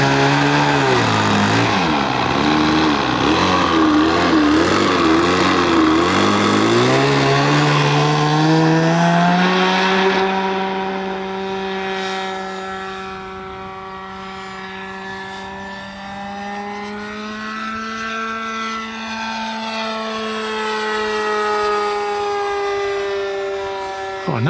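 Nitro engine on an RC model plane runs at a loud, high, buzzing whine, revving up and down before settling into a steadier drone as it pulls away slightly.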